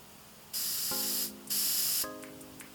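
Iwata HI Line HP-CH airbrush spraying in two bursts, a close, steady airy hiss that starts, pauses briefly and resumes, with a faint tonal whistle under the spray.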